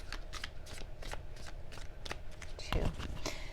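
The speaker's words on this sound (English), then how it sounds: "Give me 2 more shuffles," Tarot cards are riffled and shuffled in quick, close, crisp bursts over a few seconds, with a sharper flutter near the end and a faint voice underneath.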